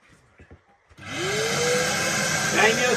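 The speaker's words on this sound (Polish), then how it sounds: "Daj mi odkurzacz." A vacuum cleaner switches on partway through after brief background sounds, then runs as a loud, steady, close whine and roar that holds to the end.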